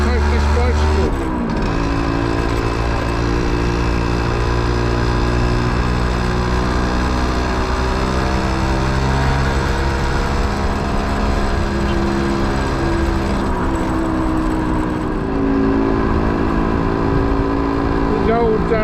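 A small motorbike engine revs up and accelerates along a road on Ireland's Copper Coast to overtake a bicycle, buzzing loud and close with rising, shifting pitch throughout.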